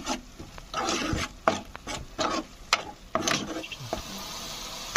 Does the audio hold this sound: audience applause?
no